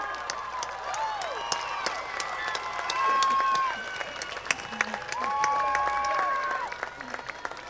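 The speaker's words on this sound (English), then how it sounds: "Let's give them a round of applause." A crowd at the University of Hawaii West Oahu Fall 2013 commencement applauds the graduating class. Cheering voices and whoops sit over sparse, crisp claps, moderately far off.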